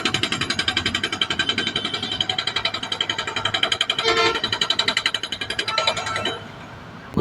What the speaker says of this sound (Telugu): ఎలా డ్రిల్ చేస్తున్నాడో చూడండి.